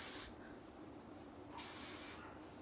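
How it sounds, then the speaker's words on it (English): Big Sexy Hair Spray and Play hairspray is sprayed over hair in two soft, quick hissing bursts, close and fairly quiet, with a short pause between them. "spray all over my hair"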